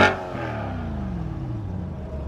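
A sports car engine, likely a Corvette C8 or Lamborghini Urus, revs hard in one sharp burst and then settles into a steady, throaty idle. The sound is close and loud, with no talking.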